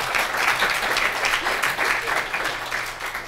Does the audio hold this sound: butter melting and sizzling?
no